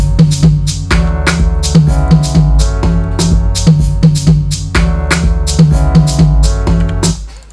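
Grand piano chords from the Addictive Keys instrument ring out in a loud beat, layered with regular sharp percussive hits throughout.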